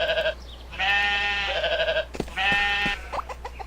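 Sheep in the video game School of Dragons bleat twice, each a loud, drawn-out wavering call lasting over a second, with a few short clicks and thuds from gameplay between them.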